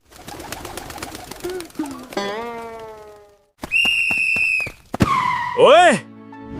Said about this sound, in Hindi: पूरे शहर में कबूतरों का ट्रैफिक जाम लगा दिया